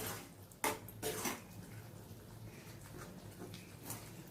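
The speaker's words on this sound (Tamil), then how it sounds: "இப்போ கிளறி விட்டுருவோம் நல்லா" Curry leaf thokku is stirred in a pan, with a few faint metallic clinks and scrapes of a spoon against the pan over a quiet, soft background.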